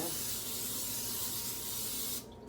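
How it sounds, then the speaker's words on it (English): A steady, close hiss of cooking spray for about two seconds, then it cuts off. "So I'm just going to spray my pan here."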